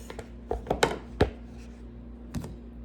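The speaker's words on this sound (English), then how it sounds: "We're nearly to the end of chopping." Irregular knife chops through potatoes on a cutting board, several crisp thuds in a quick cluster, then a pause and one more cut.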